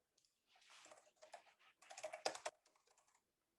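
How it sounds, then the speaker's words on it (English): Computer keyboard typing close by during an online presentation: quick bursts of soft key clicks come in short clusters with brief gaps, fairly faint and alone. "I can hear the keyboard moving."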